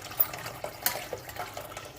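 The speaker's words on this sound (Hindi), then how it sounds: "ये हमने पतीली में थोड़ा सा पानी डाला हुआ है, इसमें हम ये यखनी डाल देंगे।" Chicken stock (yakhni) is poured into a cooking pot holding a little water, giving a soft, continuous liquid splashing with small irregular splashes, quiet and close, with no talking.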